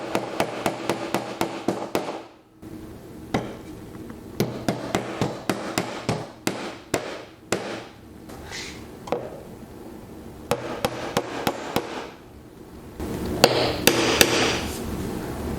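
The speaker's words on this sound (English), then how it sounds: "secure these hinge sockets with nails. The tack hammer is really the easiest tool for it" A tack hammer drives nails to fix hinge sockets into a sewing table, sharp taps coming in quick bursts of several strikes with short pauses and a brief scraping sound, all close and fairly loud.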